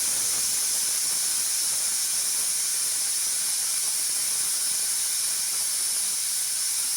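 Steady, high-pitched steam hissing from a pressure cooker cooking egg biryani, constant and unbroken for the whole stretch.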